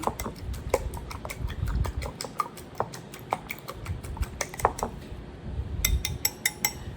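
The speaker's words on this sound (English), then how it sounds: "I'm gonna just crack 2 eggs, put them in there, whisk it up real quick." Two cracked eggs being whisked in a bowl for an egg wash, with a steady run of quick, light ticking strikes against the bowl, close and continuous over a low background hum.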